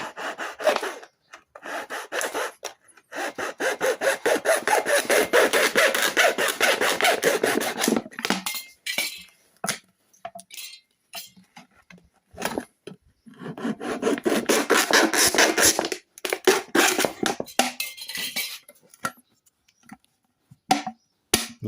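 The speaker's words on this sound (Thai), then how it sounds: "ใช้เลื่อยครับ" A hand saw rasps through a plastic bottle in rapid back-and-forth strokes, in long bursts broken by short pauses, close and loud.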